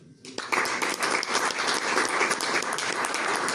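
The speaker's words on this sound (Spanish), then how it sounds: "Para el que pido otro fuerte aplauso" An audience bursts into strong applause at a presentation of a Christmas CD from Murcia during a trovo gathering. Dense clapping starts abruptly and holds loud and steady throughout.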